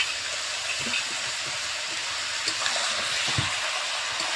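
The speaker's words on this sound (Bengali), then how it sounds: "দিয়ে দেবো টমেটো, দুটো টমেটো আছে এখানে কেটে নিয়েছি।" Tomatoes added to a pan of frying chicken biryani masala give a steady loud sizzle with faint stirring bumps underneath.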